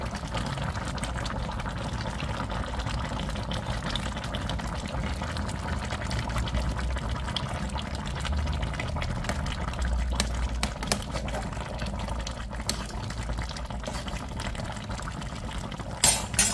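A little vinegar is poured into pork-leg adobo with black olives, giving a faint, steady liquid trickle against a low simmering background. A couple of small clinks come near the end.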